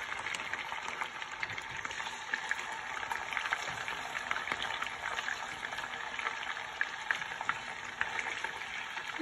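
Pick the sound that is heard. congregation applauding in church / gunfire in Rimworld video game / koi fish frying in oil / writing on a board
koi fish frying in oil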